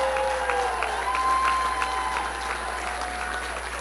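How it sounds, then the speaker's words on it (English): Audience applause after a projected election win speech, a sustained crowd clapping at moderate distance with a few cheers mixed in, fairly faint and steady throughout the short burst. "So let's give my family a round of applause."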